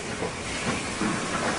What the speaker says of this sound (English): Pinion wheels under the steam loco and carriages bite into the notched rack rail